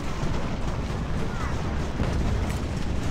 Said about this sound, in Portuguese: Parece que os canhões estão dando tirão nele aqui.